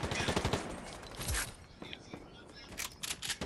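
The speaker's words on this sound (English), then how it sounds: "Oh, I'm getting shot at from the blue tower." Gunfire in Fortnite comes from a distant tower: rapid bursts of shots crackle across the clip, with a louder thump partway through and speech mixed in underneath.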